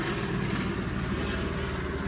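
A police helicopter flies overhead, its steady rotor and engine drone loud and continuous throughout, with no talk over it.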